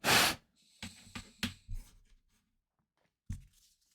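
Short rasping strokes of sandpaper on a white plastic Gunpla model part, a few close scrapes in quick succession, then a pause and one final stroke.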